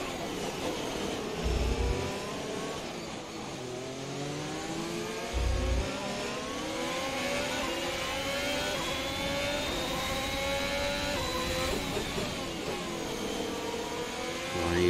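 Formula 1 race car engine on the final lap of a wet race at Jeddah in the F1 2021 video game, a steady high-pitched whine that rises and falls through gear shifts, loud and continuous with brief thumps.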